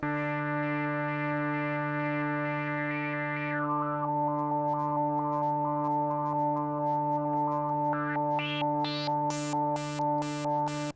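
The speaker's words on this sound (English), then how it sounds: "we're setting the source as the LFO output, the triangle wave or the square wave, and we're setting it to pitch" A Moog Voyager synthesizer drones a sustained note while its LFO modulates the pitch, first wobbling then stepping in regular jumps and finally sweeping upward in rapid bright bursts, loud and alone.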